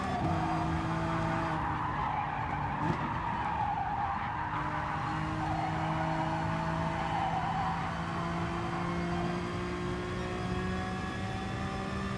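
A Honda NSX race car skids and drifts through a corner in GT Sport, its engine droning steadily at high revs while a long tire squeal rises and fades over the continuous roar, with no talk.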